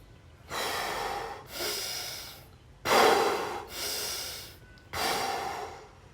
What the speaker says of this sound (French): vous prenez une grande inspiration. Vous respirez avec le ventre. Vous faites comme ça 3 fois.